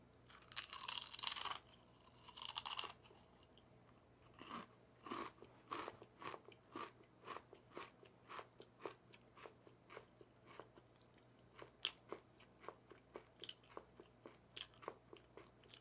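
Doritos Baja Fiery Mango chips crunched close up, a few loud bites followed by a steady run of crisp chewing crunches in a quiet room.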